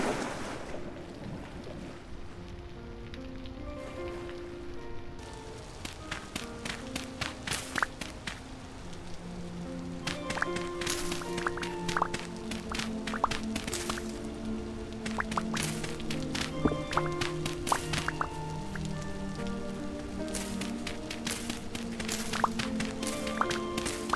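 Quick, rhythmic running footfalls in the video game Vintage Story patter steadily under a soft melodic tune, growing busier and louder partway through.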